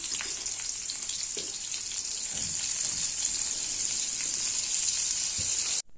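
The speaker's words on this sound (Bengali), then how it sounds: "তেলে রাখা পেঁয়াজ কুচি দিয়ে দিচ্ছি" Chopped onion fries in mustard oil with a steady bright hiss, close and moderately loud, with occasional soft stirring clicks and pops, cutting off abruptly at the end.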